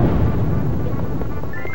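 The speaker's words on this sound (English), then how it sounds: "Another situation where we had to use the bomb." A bomb goes off in The Legend of Zelda: Four Swords Adventures, a dense, low rumbling blast that stays loud and even throughout, with no voices over it.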